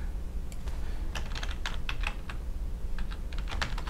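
Rapid clatter of keys on a computer keyboard as a new password is typed, with irregular bursts of close, crisp taps and brief pauses, no talking.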